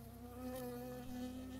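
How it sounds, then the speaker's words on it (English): Bee in the Firewatch video game buzzing close by: a continuous, steady, droning hum with a slight wobble in pitch, fairly quiet and alone without speech. "There's all a bee in there."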